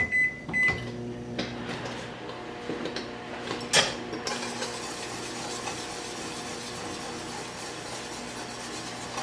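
Microwave oven humming steadily while heating jars half filled with hot water, with a few clicks and knocks at the start, a beep partway through, and a constant low drone underneath.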